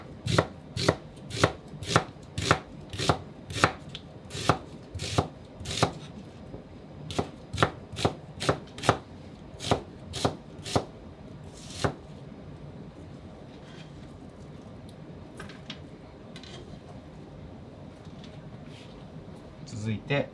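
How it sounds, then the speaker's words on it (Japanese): A knife thinly slicing onion on a cutting board makes crisp, evenly spaced chops in close succession. The chopping is loud and near, then thins out and stops toward the end, leaving quieter handling noise. "それでは玉ねぎからカットしていきます"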